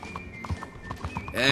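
Horse hooves clip-clop steadily in Red Dead Redemption 2 under a faint background voice, ending with a loud neigh.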